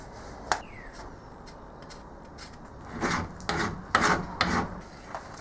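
A metal part for a Scotch yoke model is worked with a hand file, giving a short run of close, harsh rasping strokes after a quiet start with a single sharp click.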